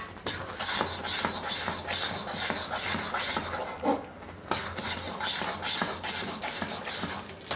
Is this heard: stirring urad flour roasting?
yes